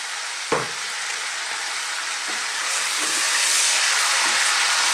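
Beef frying in a pot over medium heat for a red wine beef and vegetable stew, a steady loud sizzle and hiss with a sharp knock near the start, a couple of fainter clicks, the sizzle swelling slightly toward the end.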